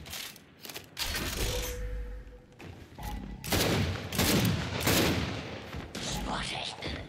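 Shotgun fire rings out in Gears 5 multiplayer on the Canals map, with a rapid volley of loud, close blasts and booms, some overlapping, and a voice talking underneath.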